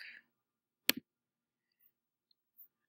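Computer mouse clicks while working in Scratch: one sharp near double click stands out in near silence, with a few tiny faint ticks after it.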